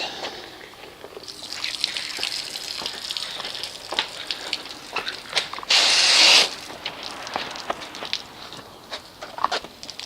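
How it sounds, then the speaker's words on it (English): Water runs from a garden hose during a car wash, a steady moderate splashing and hiss with one brief louder gush midway, close by. "Why is this hose being so uncooperative?"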